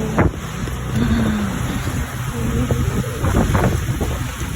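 Strong typhoon wind in Baguio roars and buffets the microphone in gusts, a rough continuous blustering with occasional louder thumps.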